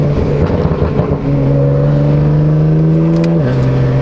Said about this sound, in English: I think this exhaust system really brings out like a unique sound